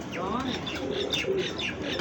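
Pigeons coo softly in a loft among other birds, with several overlapping throaty calls and faint chirps, alongside distant background voices.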